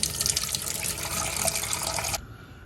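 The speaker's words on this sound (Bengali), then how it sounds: "এই যে কলের নর্মাল পানি দিয়ে আমি এগুলো ধুয়ে নিব" Tap water runs steadily into a bowl of eggshells being washed, a loud continuous splashing rush that cuts off abruptly near the end, leaving quiet room tone.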